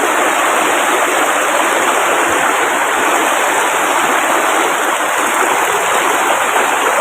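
Steady, broadband rush of a small stream flowing, constant and fairly loud throughout with no voices.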